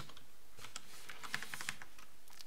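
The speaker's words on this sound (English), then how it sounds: "My fingers are not typing this well." Quiet clicking of fingers typing on a computer keyboard, an irregular run of light keystrokes with a brief faster burst in the middle, close and alone.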